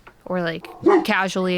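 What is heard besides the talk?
dogs barking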